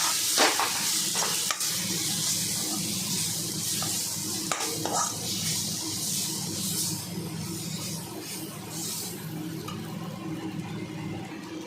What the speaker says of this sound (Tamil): ப்ரான் இறக்கும்போது ப்ரான்லாம் போட்டு கிண்டிட்டு